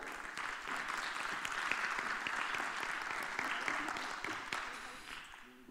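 An audience at the Mercado Chec event in Santiago applauds warmly, a sustained crowd of clapping hands with scattered sharper claps, fading slightly toward the end.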